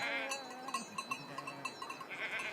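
A sheep on a Swiss alpine pasture bleats while being turned onto its back for wound treatment. Its wavering, fairly faint cries come in short pulses over light background noise, close to the handler.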